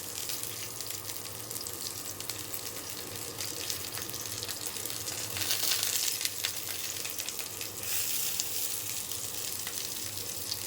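Pumpkin flower fritters fry in hot oil, giving a steady, fizzing sizzle that runs continuously, swelling slightly at moments, with no talk over it.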